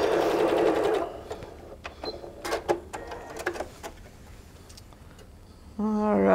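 A sewing machine stitches quilt pieces together, running in a loud steady whir, then pausing for scattered ticks and handling noises before starting again briefly at the end, close and without speech.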